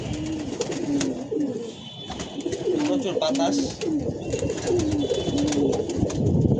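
Young pigeons kept in a cage coo in repeated soft, rolling calls, close by, while someone talks over them in wind-blown outdoor air.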